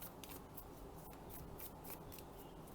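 A tarot card deck being shuffled, quick soft riffling and papery swishes repeating in a steady rhythm, close and fairly quiet with no voices.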